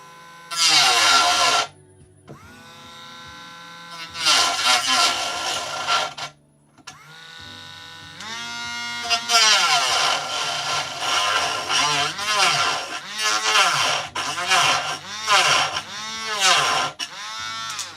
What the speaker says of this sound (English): if I up the speed on the Dremel, I'll show you, it stops working